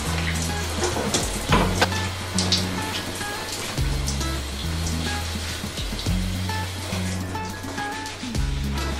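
Bathroom shower water runs in a steady, hissing spray beneath background music with a thumping bass line.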